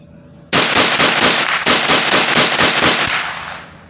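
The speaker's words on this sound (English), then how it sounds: "Can I try 10 rapid fire with a cheap ammo and see how this functions?" A Ruger 10/22 carbine firing cheap ammunition in rapid succession, about a dozen loud, close, sharp shots in a quick, slightly uneven rhythm after a short quiet start.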